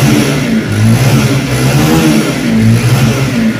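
A Bajaj Pulsar motorcycle engine revs loud and close at a bike shop, a steady continuous roar with slight swells in pitch, no voices over it.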